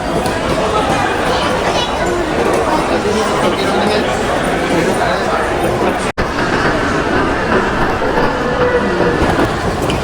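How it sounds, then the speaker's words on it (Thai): Busy ambience inside Edinburgh railway station, a dense continuous wash of crowd chatter and rail noise with trains present, steady and fairly loud throughout, with voices mixed into the din. "อันนี้เป็นบรรยากาศภายในสถานีรถไฟ"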